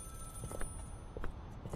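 A telephone rings inside the video game Contraband Police, with short repeated rings at a steady rhythm under a dense, noisy background that nearly buries them.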